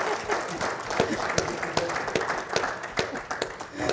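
Audience at a university lecture breaking into steady, dense applause, many hands clapping together at moderate distance, sustained for several seconds.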